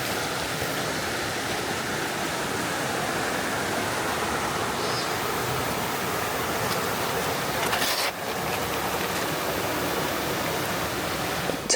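A mountain valley stream flows steadily behind small stacked stone towers, a continuous close rushing wash of water with no pauses and no voices.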